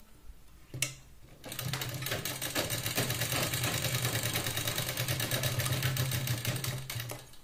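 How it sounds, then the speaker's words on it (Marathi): An electric sewing machine stitches a blouse shoulder seam, starting after a short tap and then running as a steady rapid mechanical whirr with fine rhythmic needle clatter, close and fairly quiet. "2 ते 3 वेळा शोल्डरला आपण व्यवस्थित शिलाई लावून मॅच करून घेते."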